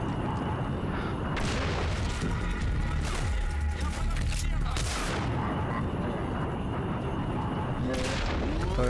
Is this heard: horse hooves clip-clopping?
no